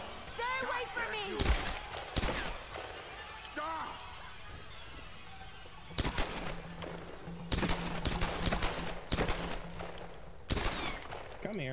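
Sharp, loud gunshots crack out in irregular bursts during a Tomb Raider fight, separated by short gaps, with voices talking and shouting between the shots.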